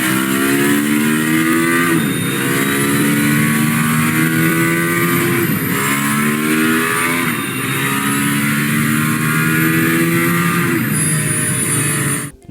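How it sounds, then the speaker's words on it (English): Mercedes-AMG ONE hypercar accelerating hard, its engine note climbing through repeated gear changes with brief dips between rising sweeps, loud and close with no talking. "Wanna hear this AMG One sounds like?"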